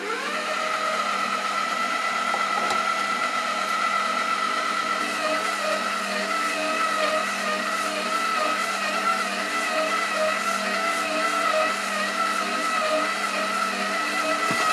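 A Heichkell 1400W stand mixer with a 6.2 L bowl kneads a heavy bread dough of 1 kg T55 flour and water at speed 2, giving a steady loud motor whine that holds even throughout, with no talking.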